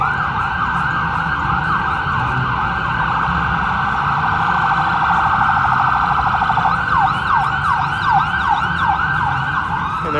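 Ambulance siren on a downtown Toronto street at night, loud and continuous, sweeping up and down in a wailing pattern that later switches to quicker yelps, over a low hum of road traffic.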